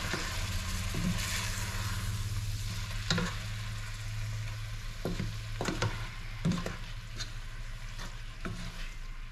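Mussels being stirred in a hot pan for ginataang hipon at tahong, a steady close sizzle with several sharp scraping clinks of the utensil against the pan, no talking.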